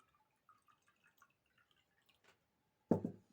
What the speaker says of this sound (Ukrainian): І легенько поливаю.